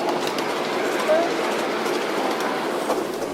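A 7.5 inch gauge miniature live steam train carrying riders rumbles along at a live steamers' club track, an even moderate roll with faint rhythmic clicks, and people are talking over it.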